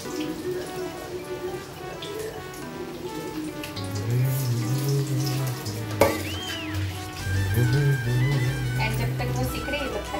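Lauki kofta balls fry in hot oil with a steady, close sizzle and crackle, joined by brief clinks and stirring noises; a person talks over the frying throughout.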